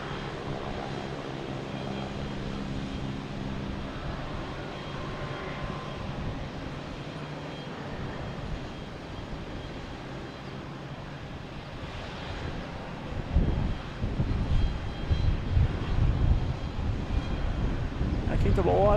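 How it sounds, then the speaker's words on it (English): A heavy UPS cargo plane landing at Boston Logan Airport, its distant engine drone building to a louder, rougher rumble toward the end, with wind buffeting the microphone. "It's probably a pretty heavy plane."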